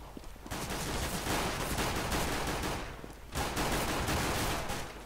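Dense, sustained gunfire from a CS:GO match in the video game Counter-Strike, with rapid overlapping rifle shots in two loud bursts separated by a brief lull.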